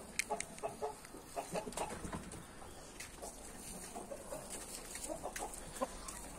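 Hens cluck in short, scattered bursts around a farmyard flock, moderately near against a steady outdoor background, with no talking.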